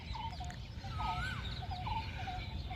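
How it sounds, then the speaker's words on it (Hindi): Morning birdsong in a wooded spot where parrots and owls gather: short chirps and whistles come at a distance over a steady low rumble of background noise. "पंछियों के कलरव जारी है।"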